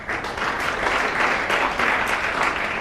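A snooker audience applauds steadily, a dense wash of clapping from a full crowd that holds at an even level for a few seconds, with no voices over it.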